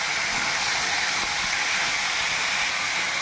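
Garlic, shallots and tomatoes cooking in a pan for a Tamil tomato kuzhambu send up a loud, dense, unbroken hiss of sizzling and steam that holds evenly throughout, with no voices.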